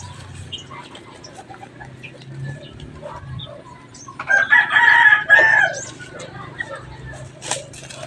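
Sasso chickens cluck and murmur in a farm pen while a rooster lets out one clear, loud crow midway, with a few scattered fowl calls around it.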